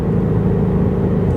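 Deep, steady engine drone from a Shelby GT350 on the road, a loud low rumble holding a constant pitch with no clear rise or fall.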